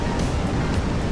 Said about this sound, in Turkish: Bak şu an küçük dalga gönderdi